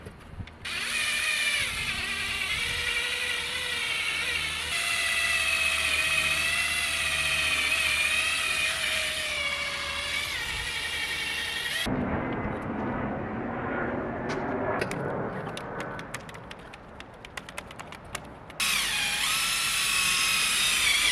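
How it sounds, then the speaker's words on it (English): A power drill with a polishing pad buffs a car headlight with compound, its high whirring motor running loud and steady, then briefly changing pitch and texture midway before resuming. "we'll be actually using the drill to apply the compound and or polish on"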